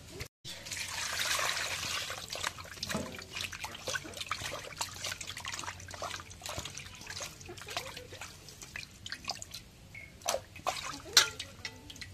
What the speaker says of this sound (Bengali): মাছগুলো এখন ঘষে নিয়ে আসলাম, এখন ধুয়ে কাটে নেই।